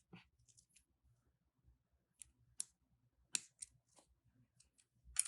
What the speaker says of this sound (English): I'm going to come in with my cutter tool to trim off the excess.